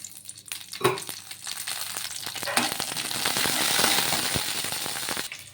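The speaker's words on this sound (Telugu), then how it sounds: "ఇక్కడ పచ్చిమిర్చిని కూడా వేయించుకుందాము" Green chillies fry in oil in a kadai, giving a continuous crackling sizzle that builds slightly and holds steady, with scattered spatter pops and a few clinks of a stirring spoon.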